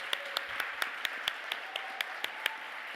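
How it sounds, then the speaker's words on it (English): A few people in an arts panel audience clap at the close of the session, giving faint, sparse, distinct claps at a slow, uneven pace. "one more round of applause for our panelists today"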